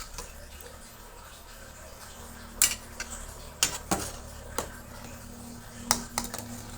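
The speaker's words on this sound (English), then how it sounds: "let's take the cilok out with the spatula" Spatula scraping and tapping against a rice container while lifting out sticky cilok, several sharp clinks and knocks scattered irregularly over a quiet hum, close and distinct.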